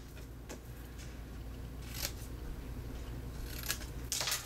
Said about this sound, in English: let me go ahead and cut these little tabs here